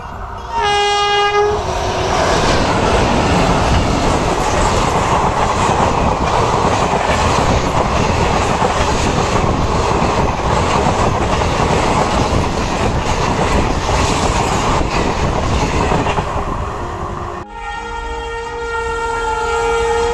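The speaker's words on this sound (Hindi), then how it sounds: "चेक रेल कसने के बाद हम एक दो गाड़ी निकाल करके चेक कर लेते हैं कि कोई दिक्कत नहीं है।" A train rolls loudly and steadily over a newly tightened check rail at a railway crossing, wheels clattering in a continuous close pass, with a horn blaring near the start and again at the end.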